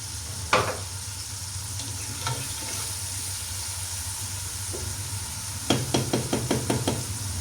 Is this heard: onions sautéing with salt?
yes